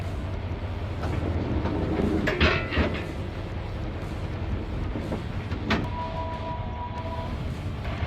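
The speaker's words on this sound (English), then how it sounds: "we will drive forward now and close up the tailgate and get on the road" A truck rolling forward with a steady engine and road rumble, broken by a couple of sharp metallic clunks that fit a tailgate being shut, close by with no talking.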